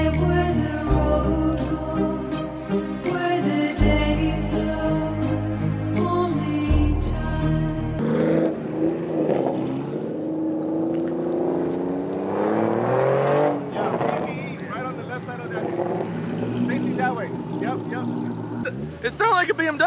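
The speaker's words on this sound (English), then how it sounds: "It sounded like a BMW." Toyota Supra engines rev at a Racewars car event, first in stepped, droning pulls and then in rising and falling sweeps, loud and close, with people talking throughout.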